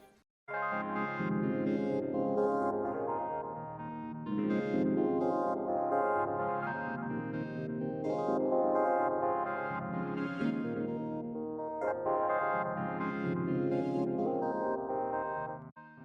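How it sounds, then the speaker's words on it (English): A layered electric piano synth patch called Ascending EP, stacked over MIDI with reverb, plays a slow chill beat in repeating four-second swells of warm chords with echoing tails, steady and moderately loud throughout. "but I layered it with this pigment sound. It's called Ascending EP."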